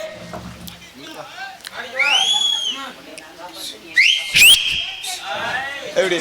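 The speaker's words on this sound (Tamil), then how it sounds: "சேர்ந்து விசில் அடிச்சு பழக்கம். அப்படி அடிப்பேன் வாயில வச்சு." A man whistles with his mouth during a Tamil village stage drama, with several rising and falling shrill whistles cutting through lively talk, plus a sharp slap-like hit near the middle.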